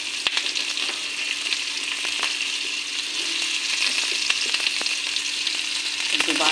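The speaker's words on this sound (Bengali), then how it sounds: "একটু ভাজা ভাজা করে নিই।" Chopped onion fries in a pan with bay leaf and whole cumin, giving a steady, close crackling sizzle that runs throughout with a few soft clicks of stirring and no talking.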